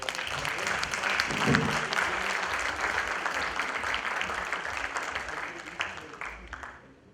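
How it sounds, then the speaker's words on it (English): Applause at the close of a semiconductor manufacturing conference session, a dense, sustained round of clapping from the audience that holds steady for several seconds before thinning out and fading at the end. "let's end with a huge round of applause for"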